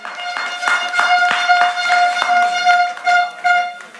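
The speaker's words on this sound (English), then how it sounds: "the crew deserve a clap for that" Audience clapping after a speech at a district launch event, sparse individual claps ringing over a sustained tonal hum, fairly close and loud.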